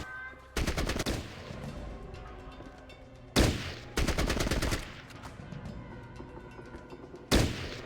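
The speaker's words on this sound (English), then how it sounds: "we're hardly hitting with a hunting rifle" Hunting rifle and AK gunfire in the game Fallout Tactics: Brotherhood of Steel, with four loud bursts of rapid shots separated by quieter ambient stretches.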